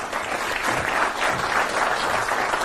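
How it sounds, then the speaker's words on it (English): A live audience claps for two volunteers at a card-memory magic show, a loud, full burst of applause that holds steady for a few seconds and stands alone without talk. "Applause for Tina and Nick."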